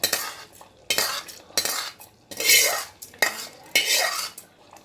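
A spoon scrapes and clatters against a metal pot as tempering is stirred into bitter gourd pitlai, with a run of distinct stirring strokes, each a short bright scrape, close and clear with no talk.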